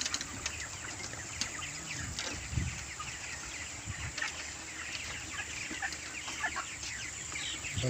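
Chickens and roosters on a chicken farm of about 3000 birds, a steady background of clucking and calls from many hens with occasional wing flaps, no clear talking.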